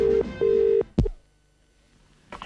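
A telephone line gives repeated steady tones, then a sharp click and a burst of dialing pulses, followed by near silence and a faint start of a ring at the end.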